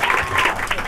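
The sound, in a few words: audience applause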